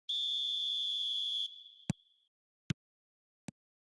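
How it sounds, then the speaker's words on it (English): A referee's whistle sounds in a football video game: one long shrill blast that tails off, then three short sharp knocks spaced evenly apart, with no voices. "There's the whistle."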